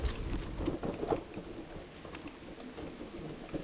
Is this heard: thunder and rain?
yes